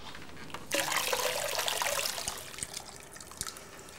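Water poured into a pot of Greek lamb stew, a steady splashing, trickling pour that starts abruptly and continues close up for several seconds, with no talking.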